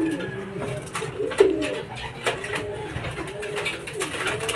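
A racing pigeon arrives at its loft, with repeated soft cooing close by in a rhythmic pattern, a few faint background noises and no clear talking.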